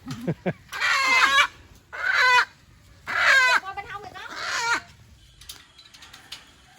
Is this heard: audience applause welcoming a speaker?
no